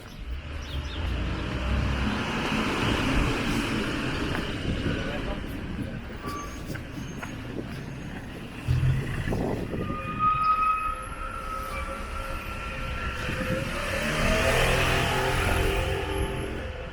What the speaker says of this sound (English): Traffic is always crazy here